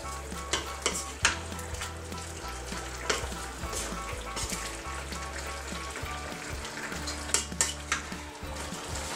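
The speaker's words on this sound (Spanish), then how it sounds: "Vertemos el caldo de pollo. Mezclemos todo un poco." Chicken stew with poured-in chicken broth being stirred in a frying pan, a steady sizzle and bubbling under repeated scraping and clinks of a utensil against the pan, close up, with no talking.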